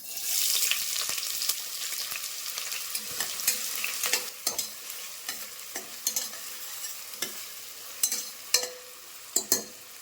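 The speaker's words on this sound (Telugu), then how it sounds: "ఉల్లిపాయ ముక్కలు వేగినాయండి." Sliced onions and green chillies frying in about three tablespoons of hot oil, a fizzy sizzle that fades over time, broken by repeated sharp scrapes and clinks of a spatula stirring the pan, close with no voices.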